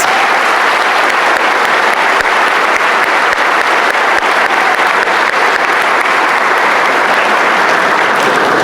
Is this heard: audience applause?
yes